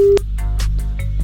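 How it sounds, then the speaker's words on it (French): A telephone line on a live morning radio show sounds repeated ring pulses with no one picking up, short bursts separated by brief gaps over a steady low hum. "On a passé les 5 sonneries."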